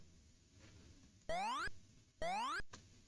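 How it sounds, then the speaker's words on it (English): Jump sound effect from the Amiga video game Thundercats: two loud synthetic rising boing-like sweeps with bright harmonics, each lasting about a third of a second, separated by a short gap over faint background hum. "the whole jumping noise is totally out of place"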